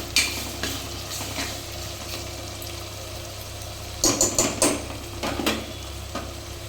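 Ginger garlic paste frying steadily in a pan for a village-style cashew curry, a continuous low sizzle with a few sharper clinks and scrapes of a ladle stirring near the end.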